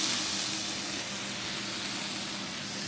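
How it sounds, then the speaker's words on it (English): Soft, steady sizzling of green beans frying in a pan, a continuous hiss heard at a moderate distance with no talking. "if you can hear sizzling in the background, it's my green beans"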